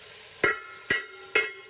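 Finely chopped tomatoes go into browned onions and are stirred in a pan, making three evenly spaced scraping clacks of a spoon over a quiet, steady sizzle.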